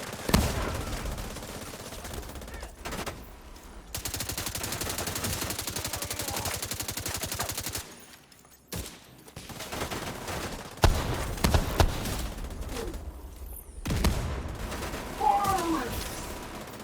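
Cover fire in the video game The Division 2: sustained bursts of rapid automatic gunfire, loud and close, broken by short gaps and sharper single shots, with a little game voice chatter.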